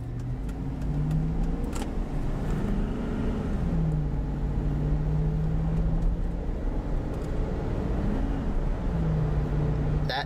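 A 2003 Cadillac Escalade with a 4L65E transmission is driven, engine note rising and falling through gear changes, including a harsh 2-3 shift bump, heard from inside the cabin as a steady drone without talk.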